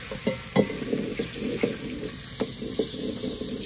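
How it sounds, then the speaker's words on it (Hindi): Garlic sizzles and is stirred in a pan in a home kitchen, with a steady frying hiss punctuated by irregular clinks and scrapes of a utensil. "खाना बना लूँ, लहसुन डाल दूँ"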